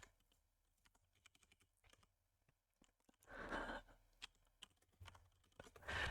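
Nix code being typed on a computer keyboard, a quiet patter of scattered keystrokes that builds into a louder, denser burst of rapid clicks near the end, with a breathy sigh in between.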